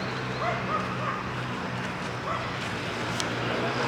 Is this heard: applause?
no